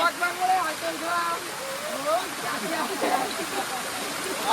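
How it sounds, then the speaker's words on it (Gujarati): A waterfall on Girnar mountain roars as a constant broadband rush of falling water, with people talking over it. "ત્યાં પાણી નો ધોધ છે"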